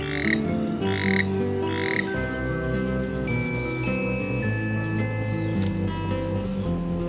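Toads croak steadily in a forest garden at Juksulheon, a Korean-style garden in Naju, a dense, layered chorus of low throaty calls close by, with a few higher chirps above.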